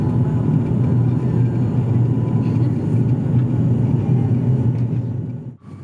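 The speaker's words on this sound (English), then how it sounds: "I'd never flown on a turboprop plane before." Steady, loud low rumble and droning engine hum inside a turboprop airliner cabin in flight, continuous throughout and dropping away briefly at the very end.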